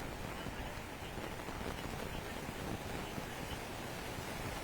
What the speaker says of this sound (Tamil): சென்னை பெசன்ட் நகர் கடற்கரை பகுதியில் பெரும் சத்தத்துடன் பலத்த தரைக்காற்றானது வீசி வருகிறது